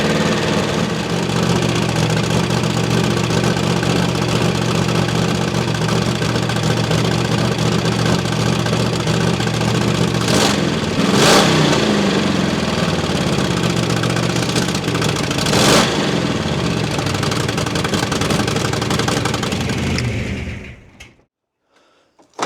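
A Holden 5.0-litre V8 runs steadily with its exhaust bolts left loose, giving a loud, continuous rumble with a couple of brief surges before it cuts off near the end.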